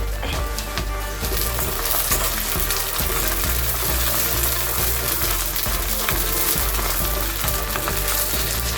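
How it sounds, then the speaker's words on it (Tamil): Garlic, pepper and nochi leaves roast in a hot pan with a dense, continuous crackling sizzle, close and steady, with a few faint stirring scrapes and no talking. "எல்லா இலையும் ரோஸ்ட் ஆகணும் நல்லா."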